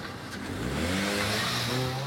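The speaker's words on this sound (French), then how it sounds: "La voiture banalisée se lance à leur poursuite." An unmarked police car on the Paris ring road accelerates hard in pursuit, its mid-range engine revving steadily and loudly for about two seconds amid surrounding traffic noise.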